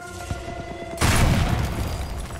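Gunfire in Sniper Elite 4 at Giovi Fiorini Mansion: a faint rhythmic patter gives way to a sudden loud burst at one second, then sustained dense rumbling and crackle through the end, with no talk.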